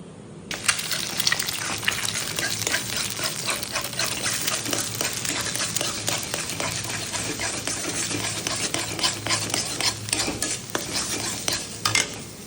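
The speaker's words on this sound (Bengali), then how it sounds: "দুটো ডিম দিয়ে দেবো দুটো ডিম ভুজিয়া করে তুলে নেবো" Two eggs are scrambled in a pan with chopped tomato, ginger, garlic, green chilli and onion. A utensil scrapes and stirs steadily over a constant close sizzle that runs the whole time without pause.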